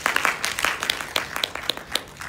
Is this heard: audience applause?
yes